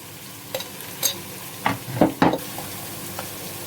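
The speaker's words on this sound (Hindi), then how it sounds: "अदरक लहसुन का पेस्ट डालेंगे।" Ginger garlic paste is stirred into hot oil with chopped onions, a soft sizzle broken by a few scraping stirs near the middle, alone without voices.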